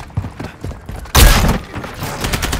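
Gunfire in Call of Duty: Modern Warfare III, light distant shots giving way to a loud, close burst of booming fire that continues in rapid rounds.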